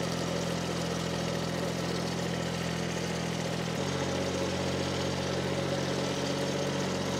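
A hydrostatic four-wheel-drive micro tractor idles with a steady, low engine hum, its pitch stepping down slightly partway through, close and continuous with no talk.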